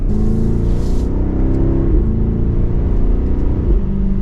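A 2024 BMW X5 M60i accelerating from second gear in sport mode with manual shifting, a loud, steady engine and exhaust drone that climbs in pitch, with no voices.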